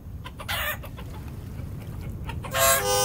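A rooster in the video game Vintage Story attacks, giving a few sharp clucks and squawks in quick bursts over a low steady background, ending in a loud, louder call.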